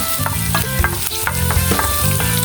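Garlic sizzles loudly in a hot pan while being stirred, the steady frying hiss broken by rhythmic scraping and clacking strokes of the utensil.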